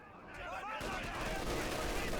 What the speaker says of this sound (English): What a catch for the 50 cal